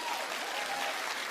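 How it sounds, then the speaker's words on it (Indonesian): A church congregation claps for Jesus after a sermon call, steady dense applause that fills the room evenly throughout. "Sekali lagi tepuk tangan buat Tuhan Yesus."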